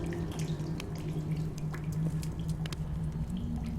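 Water drips inside a cave in the game The Solus Project, scattered soft plinks over a steady low ambient hum, no talk.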